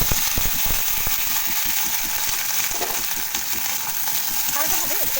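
Jackfruit kofta mixture frying in a pan with chopped onion and tomato, stirred vigorously with a spatula; loud continuous sizzling under rapid, rhythmic scraping and clacking strokes against the pan.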